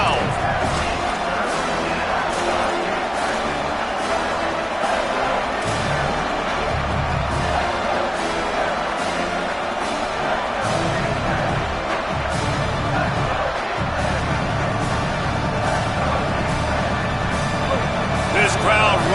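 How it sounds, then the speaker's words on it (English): Football stadium crowd roaring steadily during a game, a loud continuous swell with a play-by-play announcer talking over it throughout. "This crowd rising up, sensing that its defense needs some help"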